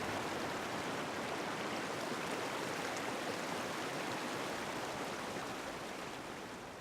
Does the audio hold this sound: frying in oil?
no